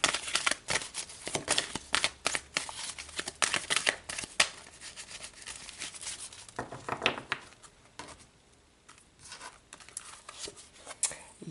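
Tarot cards being shuffled by hand in rapid riffling bursts, close and crisp, with a card pulled from the deck during a quieter stretch and more shuffling after it.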